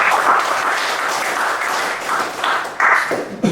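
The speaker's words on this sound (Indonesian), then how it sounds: "Tepuk tangan untuk Devano." A classroom of students claps for their classmate Devano, a lively burst of applause from many hands, close and steady, with a few louder swells near the end.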